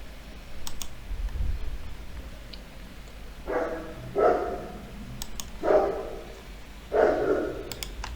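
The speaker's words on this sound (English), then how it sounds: "Apologies for my dog." Indoors, a dog gives four short, fairly faint barks spaced a second or so apart, with scattered keyboard clicks and light tapping heard between them.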